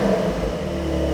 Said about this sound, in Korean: 이 배기를 ON하고 밟아보도록 할게요